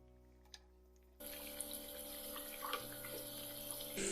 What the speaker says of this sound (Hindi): गैस को हमें लो मीडियम फ्लेम में रखना है और धीरे धीरे सारे समोसे हमें फ्राई कर लेने हैं